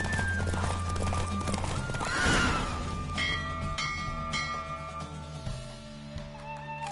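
A horse galloping in The Witcher 3 video game, hooves clip-clopping in a steady run amid game music and ambient tones, with a brief whoosh of rushing air partway through.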